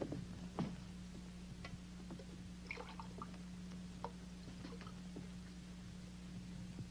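Water dripping in slow, irregular single drops, faint and close against a steady low electrical hum.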